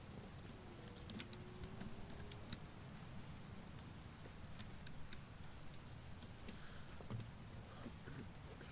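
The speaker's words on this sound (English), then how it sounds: "Oh, the rain." Steady rain falling in the video game Teardown, a dense even hiss lasting throughout with occasional sharper spatters, no talk over it.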